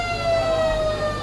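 A long, steady siren wails loud and unbroken at a country Australian rules football match, Victor Harbor versus Mount Compass, signalling the start of a quarter.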